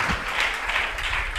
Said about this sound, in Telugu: చప్పట్లు కొట్టి దేవుని మహిమ పరచు